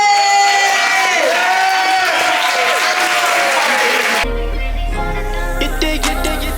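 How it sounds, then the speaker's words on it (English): Audience applause and cheering for a poet at an open mic night fill the first four seconds, loud and dense, then break off abruptly into music. "Clap it up for our poet."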